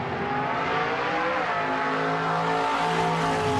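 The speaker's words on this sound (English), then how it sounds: "A car moving towards me sounds high-pitched." A car engine roars steadily and loudly, its pitch sliding as it drives past with a clear Doppler shift, with no voices.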